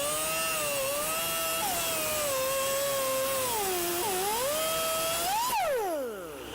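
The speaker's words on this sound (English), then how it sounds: "So we need to use this cutoff wheel." A cutoff wheel spinning at high speed on rusted exhaust bolts during a catalytic converter install on a 2006 Toyota Camry, a loud continuous whine whose pitch wavers and dips under load, then rises and winds down at the end.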